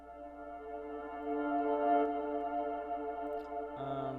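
A reverse piano effect layered with a duplicate pitched far upward, a sustained harmonic chord that swells and holds, then shifts abruptly to a brighter, higher tone near the end, with no voices.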